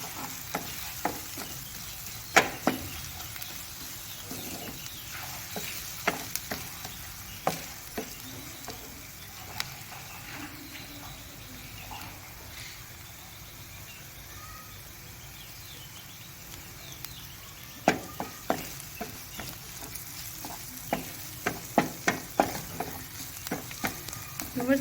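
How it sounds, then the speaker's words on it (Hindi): Sliced onions fry slowly in a pan over a low flame, giving a quiet, even sizzle with scattered soft clicks and stirring taps, loudest near the start and end, with no voices. "इसको बिल्कुल लो फ्लेम पे हम करेंगे। हल्का सा बस इसको ब्राउन करेंगे प्याज को।"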